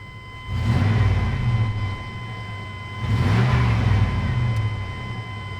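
A 1996 Chevy truck engine idling is revved twice, each rev swelling into a louder, rising roar for about a second and a half before settling back to a steady idle, close by with no talking.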